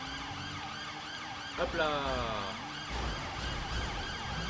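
A wailing emergency siren from a police patrol vehicle in a GTA-style driving game, sweeping up and down in pitch over a steady engine drone before cutting off, with a brief spoken interjection.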